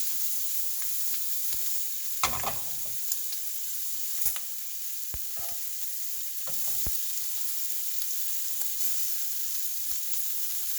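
Large shrimp frying in a pan, a steady bright sizzle running throughout with occasional clicks and taps of a utensil stirring or turning them.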